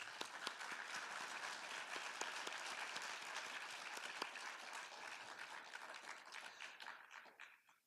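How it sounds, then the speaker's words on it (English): Audience applause for the host committee at an election integrity summit in Cuyahoga County, a steady wash of many hands clapping that fills the room, moderately loud, and tapers off at the end. "Let's give them a round of applause."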